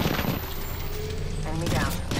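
Gunfire in the shooter Apex Legends, a dense continuous crackle of shots and effects filling the short clip, with a voice speaking over it.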